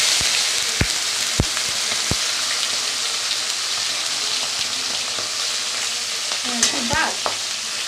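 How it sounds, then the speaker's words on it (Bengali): Fish sizzling in hot oil in a wok, a steady close crackle with several sharp pops and spatters, a brief scraping stir near the end, no talking. "এরকমভাবে সবগুলো মাছ ভাজবো আমি।"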